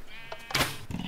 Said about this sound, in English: shoot that sheep, sheep, get back there